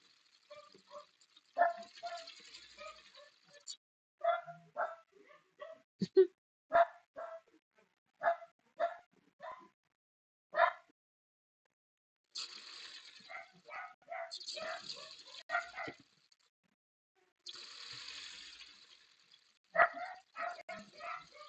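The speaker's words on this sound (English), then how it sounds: "They bark through the whole thing." Several dogs bark in repeated sharp bursts and short volleys, fairly close and loud, with brief quiet gaps between the bouts.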